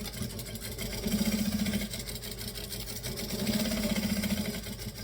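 A sewing machine tacks stitches along a seam allowance in two short bursts of steady mechanical whirring, the first around the one-second mark and the second near the end, close and moderately loud over a quiet room.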